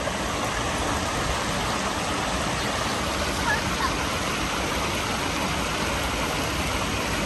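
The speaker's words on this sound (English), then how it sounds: "those streams that meet each other" Water from streams where they meet rushes in a steady, even wash of broadband noise that fills the whole clip, near and continuous with no pauses.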